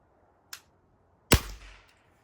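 A Winchester 1977XS air pistol goes off accidentally, a single sharp loud crack that rings briefly, preceded half a second earlier by a fainter click, with no talking.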